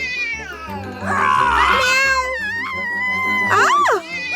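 A cartoon character turned into a cat lets out loud, drawn-out meows and wailing caterwauls, several rising and falling cries over a faint music bed.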